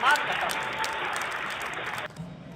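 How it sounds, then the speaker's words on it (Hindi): An audience at a Hindi heroic-poetry recital in Ayodhya breaks into dense, steady applause that runs for about two seconds and then cuts off abruptly, leaving a quieter room. "एक बार तालियां बजा करके उस कविता की मांग करता हूं।"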